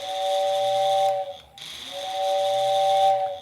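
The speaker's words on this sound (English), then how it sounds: "So you see that motor really has to spin to drive enough air to get through that whistle." A Lionel whistle tender's motor-driven toy train whistle runs at low speed on AC power, giving a thin, steady close-up whistle with a faint hiss beneath it, cutting out briefly in the middle before resuming.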